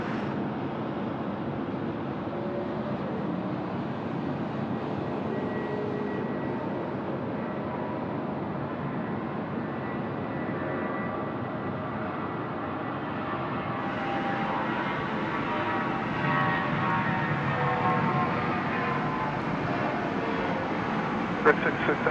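Airliner taking off at night from runway 16 right at Sydney Airport, a steady distant engine roar that swells slightly toward the end, heard alongside air traffic control chatter.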